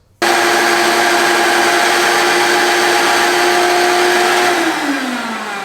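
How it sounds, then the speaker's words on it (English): A Skil palm sander runs with a shop vac attached, making a loud, steady, close whirring drone that begins suddenly and winds down slightly in pitch near the end, with no talking. "I'm going to plug in my shop vac so you guys can tell a noise difference."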